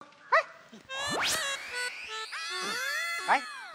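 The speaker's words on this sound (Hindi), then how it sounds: "कुछ तो भौंक" A dog in an Indian TV sitcom scene gives close, loud barks and long rising, wavering whines and yelps, with short sharp yips at the start and end.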